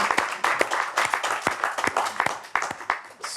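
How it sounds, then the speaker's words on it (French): Sustained applause from a rival team and a live audience in Paris at a French-language contest final, many hands clapping briskly with sharp individual claps standing out from a continuous wash. "Sous les applaudissements nourris de l'autre équipe et du public à Paris"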